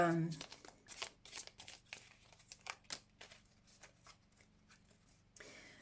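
Tarot cards being shuffled in quick riffling bursts, crisp papery flicks repeating close by for several seconds, with no talk over them.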